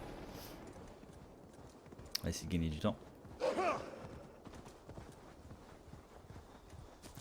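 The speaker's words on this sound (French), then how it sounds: "Ne pas traverser quand même toute la carte à cheval" A horse's hooves clip-clop quietly and rhythmically in a video game as it is ridden across the map, under someone speaking French.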